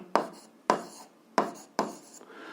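Marker or chalk strokes on a classroom board as a physics problem's given values are written out, four short scraping bursts in an uneven rhythm, close and fairly loud, with no voices.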